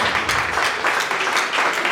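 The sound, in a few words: church congregation applause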